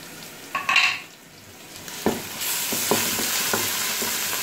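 Onions browning in a pan with ginger-garlic paste for beef yakhni pulao: a few spoon clinks and stirring scrapes come first, then a steady close sizzle builds, broken by light knocks of the utensil, with no talking.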